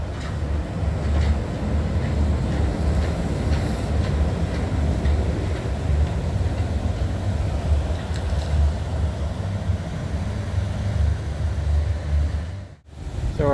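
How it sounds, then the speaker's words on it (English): Disney's Monorail Red glides past at the park, a steady, close rumbling rush that holds for several seconds before briefly cutting out. "And Monorail Red is coming by."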